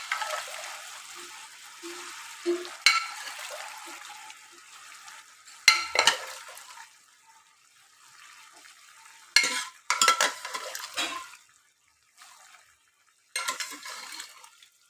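Boiled peas for ghugni being stirred in a pan, with bursts of loud sizzling and frying and scraping of the spoon, rising and falling in waves up close, no talk.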